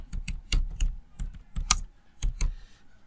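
Rapid clicking of keys on a computer keyboard as someone types, in irregular bursts of close, crisp keystrokes with short pauses between them and no talking.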